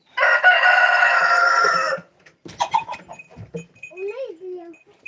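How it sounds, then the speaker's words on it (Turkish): A rooster crows loudly and close by in one long call, followed by quieter clucking and scattered bird calls, on a farm with goats. "Horozu kovaladım ben."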